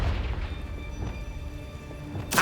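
A Confringo spell explosion in Hogwarts Legacy, a soft booming burst with low rumble that swells into a brighter, sharper blast at the very end.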